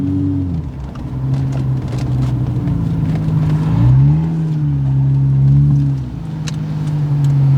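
A rebuilt vandalized car driving along, its engine humming steadily and rising in pitch as it accelerates, close and continuous with light road noise and no talk.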